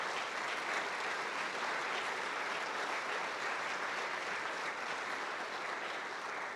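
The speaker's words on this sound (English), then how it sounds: "Can you give Helen a big clap?" Steady, dense applause from a large audience at the Inspire 2026 event, sustained at even loudness throughout with no voices breaking through.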